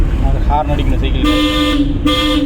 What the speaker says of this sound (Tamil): ஹார்ன் அடிக்கணும் சைக்கிள்.